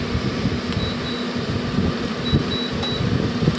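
LG 12,000 BTU 220-volt air conditioner and heat unit running in heat mode: a steady close whirring fan hum with a faint hiss and occasional soft high tones, no voices.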